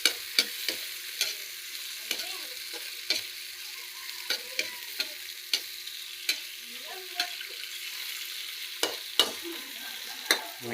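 Garlic, onions and tomatoes sauté in a pan before mung beans go in, with a steady sizzle and sharp, repeated ticks of a utensil stirring and scraping at an uneven rhythm.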